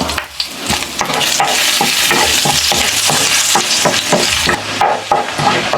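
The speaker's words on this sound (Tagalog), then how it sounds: "Ang unang igigisa natin, syempre, ang bawang." Garlic sizzles steadily in a hot pan while a utensil stirs it with repeated scraping clinks, loud and close throughout, with no voices.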